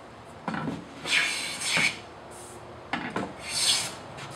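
A hand plane shaves Australian hardwood in two slow, rasping strokes with a short pause between them. The sound is close and dry, with a brief scrape at the start of each pass.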